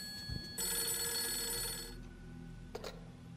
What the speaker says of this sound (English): we need to answer that phone